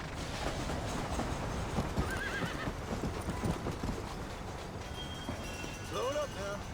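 Horse hooves clop steadily over a noisy rumbling background in the video game Red Dead Redemption, and a horse whinnies twice in short, rising calls near the end.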